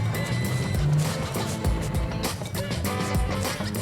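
A used third-generation Toyota Tacoma pickup engine is heard from the cabin as it accelerates gradually, a steady, moderately loud drone and hum carrying on without a break.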